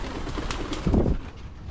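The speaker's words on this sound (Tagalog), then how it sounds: "ayun po itong ating mga ibon" Pigeons kept outdoors without a trapdoor give a short, soft, low coo that rises briefly in the middle of a quiet outdoor background, with no talking.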